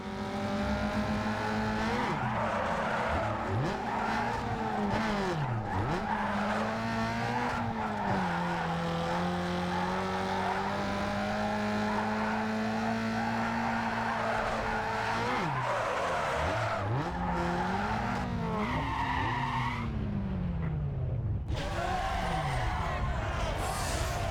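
In the racing game NFS Underground 2, a car drifts through corners with loud sustained tire squeals and skids over a revving engine that rises and dips repeatedly. A voice talks underneath.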